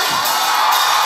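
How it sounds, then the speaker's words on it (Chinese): Concert crowd screaming and cheering at full volume, a dense, continuous wall of shrill voices filling the whole moment. "全场的尖叫声在哪里？"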